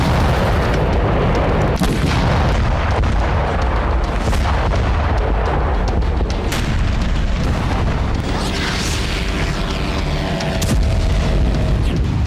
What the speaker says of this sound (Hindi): वहां ज़ेलेंस्की सेना भीषण हमला कर रही है।